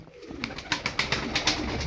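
Tumbler pigeons coo in a steady run of soft, throaty pulses, each note close and moderately loud, repeating about every quarter second without pause.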